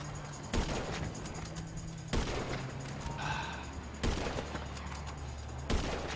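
Gunfire aimed at a helicopter in GTA V Online: four sharp loud reports spaced about every two seconds over a steady engine drone and a hum, with brief tonal beeps in between.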